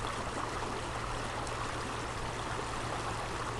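A river flowing past outdoors, a steady, soft broadband wash of moving water that runs evenly throughout, with no voices.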